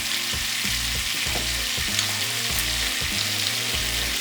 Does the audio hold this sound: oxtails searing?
yes